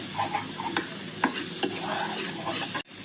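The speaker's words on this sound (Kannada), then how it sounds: "ಈಗ ಬಾಣಲೆಗೆ ಒಂದು ಚಮಚದಷ್ಟು ತುಪ್ಪ ಹಾಕ್ಕೊಂಡ್ಬಿಟ್ಟು ಸ್ವಲ್ಪ ಕಾಳು ಮೆಣಸು ಹಾಕ್ಕೋಬೇಕು." Black peppercorns fry in a spoonful of ghee in a pan, a soft steady sizzle broken by a few sharp scraping stirs of a spoon, then a sudden brief pause.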